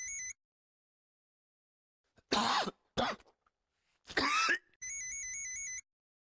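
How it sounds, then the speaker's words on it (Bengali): A person coughs in a few harsh, separate bursts close by, with short gaps between them, framed by a steady electronic tone that plays before and after. "কাশছো কেন?"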